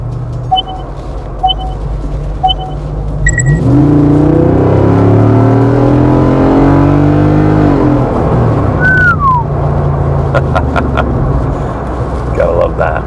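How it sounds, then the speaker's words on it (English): A 2024 Jeep Wrangler Rubicon 392 Xtreme Recon, lifted on 35-inch tires, starts its V8 and rumbles loudly from close by, the exhaust revving up and settling into a steady deep idle, with brief beeps before and after. "That exhaust has such a great rumble to it."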